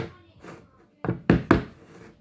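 Glass jar packed with pickled onions is banged down on a surface three times in quick succession, sharp thuds following some quieter handling sounds and faint background voices.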